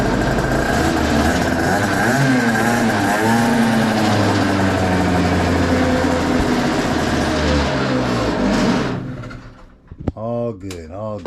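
A motorcycle engine runs loud and steady at close range with a droning hum, then cuts out near the end, followed by a brief voice.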